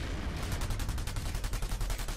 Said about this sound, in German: Boah, wo kommen die Schüsse jetzt her?